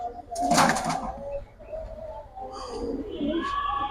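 Silver military jabra pankhi pigeons coo in a rainy-day setting, a few soft low coos and rustles close by, with a louder burst of fluttering early on and a person talking at moments.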